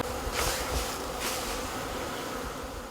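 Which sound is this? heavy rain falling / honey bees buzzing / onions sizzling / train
honey bees buzzing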